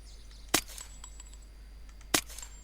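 Two separate sharp shots from the Zubeknikov rifle fired without a vertical grip in Unturned, each a crisp crack with a short ringing tail, spaced over a second apart against quiet background hum.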